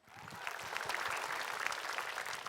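A studio audience at an Islamic talk show applauds for the ustaz, clapping swelling quickly from quiet into a steady, full round that holds to the end.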